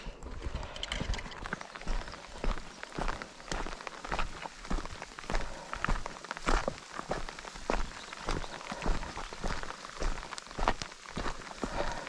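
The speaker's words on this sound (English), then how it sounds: "It's raining harder." Steady rain patters on a surface while footsteps fall in a regular rhythm close by on the Camino Primitivo trail in Spain, fairly quiet overall.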